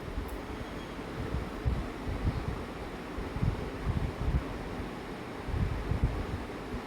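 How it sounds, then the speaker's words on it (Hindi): Kadhi, a buttermilk and water curry, at a rolling boil in a cooking pot, giving a steady low bubbling rumble that swells and dips throughout with no talk. "ये देखिए अच्छा खौल आ गया है"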